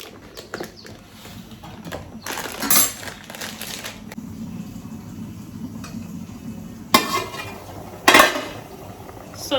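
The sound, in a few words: stirring a soup pot and covering it with the lid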